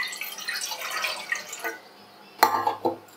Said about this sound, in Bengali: এই ডেকচিতে আমি জল দিয়ে দিচ্ছি।